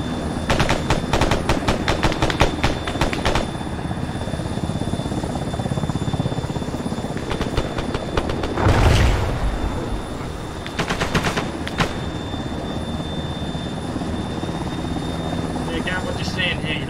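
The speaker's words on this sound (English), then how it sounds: "What's the helicopter here?" Helicopter rotor drone in a military video game amid heavy bursts of gunfire and explosions, a steady rumble throughout with rapid shots in the foreground.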